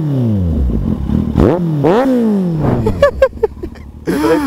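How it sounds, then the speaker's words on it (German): A motorcycle running without its dB killer revs hard and loud up close, with rising and falling howls from the open exhaust. Rapid crackling pops follow, then a final sharp blip. "jetzt zeige ich euch mal ganz kurz den Auspuff"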